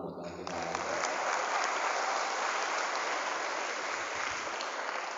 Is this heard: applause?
yes